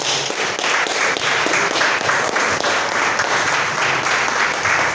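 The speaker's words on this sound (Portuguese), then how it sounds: "Aplauda ao Senhor." Steady applause from a church congregation during a service, many hands clapping loudly and continuously throughout with no voices standing out.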